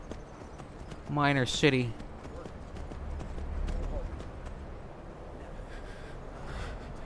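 Horse hooves clip-clop at a steady walking pace in Skyrim near Dawnstar, moderately close, while someone talks over them.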